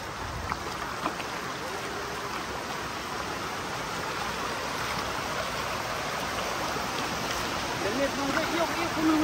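A forest stream flows steadily as a constant broadband rush close by, with people walking along its bank and faint voices now and then beneath the water.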